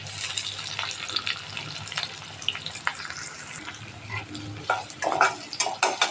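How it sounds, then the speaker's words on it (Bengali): Chopped onion and green chili frying in oil give a close, crackly sizzle, broken by irregular stirring scrapes that turn busier toward the end. "মরিচ পেঁয়াজগুলা আমি বাদামি কালার করে ভেজে নেব"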